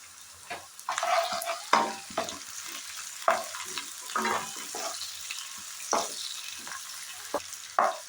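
Curry leaves frying in hot oil in a pan while being stirred: steady sizzle with repeated sharp scraping and clinking strokes of the spoon against the pan, close and fairly loud, no talk.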